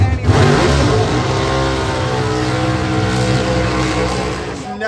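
An 11,000-horsepower nitro-burning Top Fuel dragster engine roars at a drag strip, a loud, sustained, deep rumbling blast with a rough low-end crackle that holds steady for the whole stretch.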